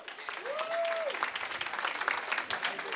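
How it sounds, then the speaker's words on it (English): Wedding guests at The Breakers on Ocean in Spring Lake, New Jersey applaud the father of the bride, a lively continuous clapping with a brief whistle near the start. "how about a big round of applause once again for Dad"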